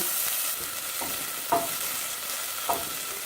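Roughly chopped onion sizzling in a tablespoon or two of oil in a preheated pot, a steady close frying hiss with a couple of brief stirring clatters, no voices.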